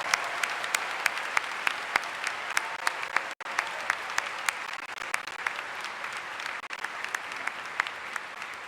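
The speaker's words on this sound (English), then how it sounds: "can we give a big round of applause for Ms. Patton and all the amazing moms here with us this morning." A commencement audience at Emory University applauds the moms being honored, with steady, dense clapping and a few sharp individual claps standing out, continuing evenly with a brief drop partway through.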